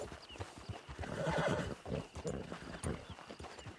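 A horse in the Red Dead Online video game gives a loud, drawn-out neigh over the clip-clop of hooves in an outdoor camp, with no talking.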